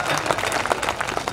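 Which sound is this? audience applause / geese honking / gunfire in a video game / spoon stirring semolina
audience applause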